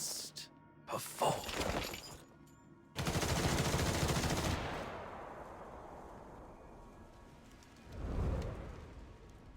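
Bursts of gunfire from armed units in the video game Duet Night Abyss, loud rattling volleys with a shattering crash, fading out, then another heavy blast near the end.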